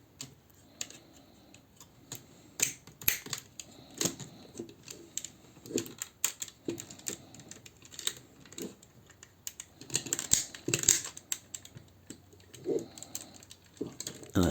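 Arm joints of a plastic Toyworld Burden transforming toy are worked by hand, giving a steady run of small close clicks and ratcheting ticks with brief handling rustle between them.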